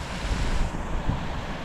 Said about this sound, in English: You can sit there and watch all the water coming through that gully